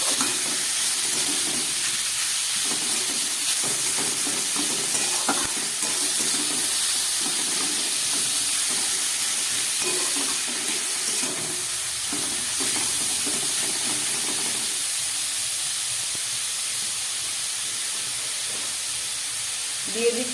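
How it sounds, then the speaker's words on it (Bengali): Onion, capsicum, tomato, cabbage and carrot sauté together in a pan, a steady soft hiss and sizzle broken by stirring, going on for a long stretch, with a voice talking intermittently over it. "দিয়ে এগুলোকে খুব ভালো করে আমি কষিয়ে নেব।"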